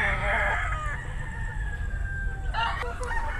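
A kamistiso rooster crows loudly over a steady low rumble of background noise, with a second crow rising near the end.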